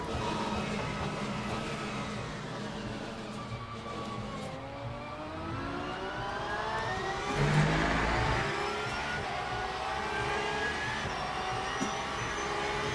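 A Porsche race car engine in Le Mans Ultimate, a racing game, revs and shifts through gears with rising and falling tones at a steady loud level, peaking once midway, with no voices.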